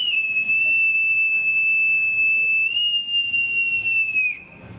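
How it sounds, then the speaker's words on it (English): A single long, shrill whistle blast held steady and close for several seconds, then cut off abruptly. "hold on, I got my whistle here."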